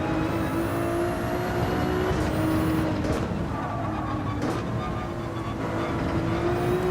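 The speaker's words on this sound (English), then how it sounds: "we out here trying to kill ourselves in this 296 on the Nurburgring" A Ferrari 296 races around the Nurburgring in Gran Turismo 7, its engine a loud, steady drone that rises and falls in pitch through gear changes, heard alone and close with no talk.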